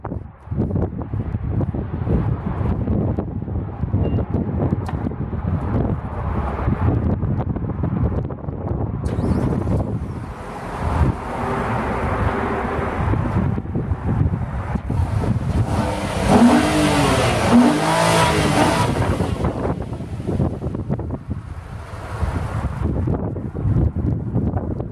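A 2016 Nissan Maxima engine turns over and runs, with rising revs and heavy wind buffeting on the microphone outdoors, loud and close throughout.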